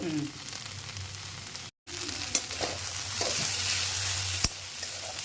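Okra and onion fry slowly in oil over a low gas flame, giving a steady close sizzle throughout, broken by a brief dropout and a few sharp utensil clicks.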